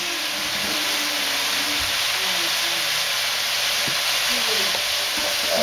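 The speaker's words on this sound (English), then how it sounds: "mix it in. try to get them all coated." Spare ribs are stirred and tossed with oyster sauce and cornstarch, a steady broad hiss with soft scraping and wet mixing sounds close up, without talk.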